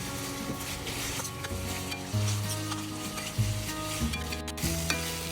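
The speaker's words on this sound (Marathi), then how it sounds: "यामध्ये आता आपण आपलं जे चिकन होतं ते ॲड करणार आहे." Chicken marinated in red chili paste hits hot fried onions on a tawa and sizzles loudly and steadily, with repeated scraping stirs of a spatula and clinks of metal close by.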